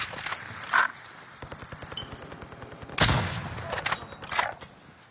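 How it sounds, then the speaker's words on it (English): Rapid bursts of video game gunfire crackle in quick, evenly spaced volleys, with a louder burst near the middle and sharper shots toward the end, all without talk. "I'm being shot at."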